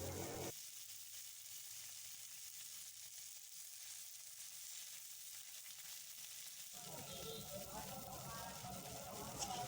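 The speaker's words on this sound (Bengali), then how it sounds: "নুন দিয়ে ভালো করে ভেজে নেব।" Vegetables frying with salt in a pan for a fish curry, a steady broadband sizzle that drops back briefly and then returns stronger with scraping stirs, moderately close.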